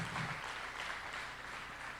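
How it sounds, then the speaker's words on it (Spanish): Church congregation applauding during a Sunday service, a steady, dense wash of clapping from many hands that holds evenly for the whole two seconds. "Le damos un aplauso al Señor"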